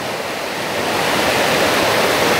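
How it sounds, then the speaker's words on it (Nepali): Bhalu Khola stream rushes under heavy monsoon pressure, carrying stones along its bed: a loud, continuous broadband roar of churning water, steady and close, with no voices. "भालु खोलाको पानी नै काफी छ अहिले, ढुङ्गा बगाइरहेको अवस्था, यहाँ आवाज त्यस्तो आइरहेको छ।"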